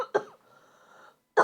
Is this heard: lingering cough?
yes